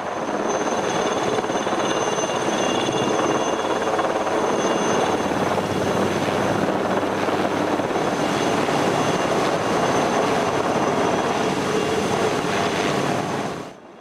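A helicopter roars steadily close by at the Air-Glaciers airbase in Saanen-Gstaad, its loud engine whine and rotor throb continuous throughout before fading slightly at the very end.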